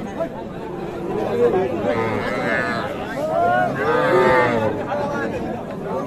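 Sahiwal heifer calves mooing at a village cattle market, two drawn-out lowing calls rising over steady crowd chatter and bargaining voices nearby.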